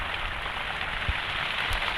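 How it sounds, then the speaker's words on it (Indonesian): Steady rain falls at a fishing spot, a dense even hiss of drops on surfaces with occasional louder nearby splats, continuous and moderately loud with no talking. "Hujan bos, hujan."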